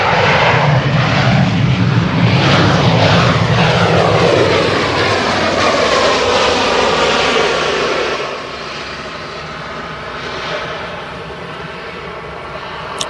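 A fixed-wing airliner comes in to land at Manchester Airport, its engines roaring loud and close with broadband rumble and a sweeping pitch shift, then easing to a lower steady drone after touchdown, with no voices.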